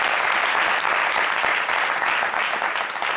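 Steady applause from a crowd at a fashion show, dense and continuous throughout with no gaps and no voice over it.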